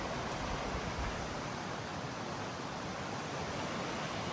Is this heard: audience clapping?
no